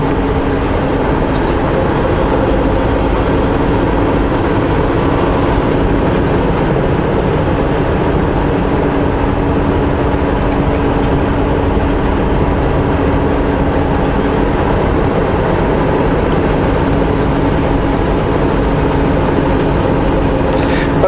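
A semi truck cruising at highway speed gives a loud, constant drone of engine and road noise that holds steady without a break, with no one talking.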